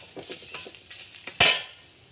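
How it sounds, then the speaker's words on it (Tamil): Grated coconut being lightly fried and stirred in a pan for a Vinayagar Chathurthi sweet, soft sizzling under a few spatula scrapes, then one sharp louder clink of utensil on pan near the end. "தேங்காய் பூ கொஞ்சம் நல்லா வதம் ரொம்ப கருப்பாக வதங்க தேவையில்லை சும்மா லைட்டாக"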